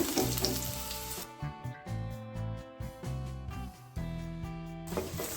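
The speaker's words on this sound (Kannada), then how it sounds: "ಎಣ್ಣೆ ಬಿಸಿಯಾಗಿದೆ ನಾವು ಜಚ್ಕೊಂಡಿರುವ ಒಂದು ನಾಲ್ಕೈದು ಹೆಸರು ಬೆಳ್ಳುಳ್ಳಿ ಹಾಕ್ಕೊಳ್ಳೋಣ ಹಾಗೆ ಕಟ್ ಮಾಡ್ಕೊಂಡಿರುವ ಒಂದು ಈರುಳ್ಳಿ ಕೂಡ" Garlic and onion fry in hot oil for an okra stir-fry, a quiet, crackling sizzle broken by short gaps, under a steady background tone and faint stirring.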